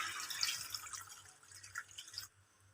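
Second coconut milk poured into a cooking squash dish makes a soft, quiet trickle and splash for about two seconds, then stops.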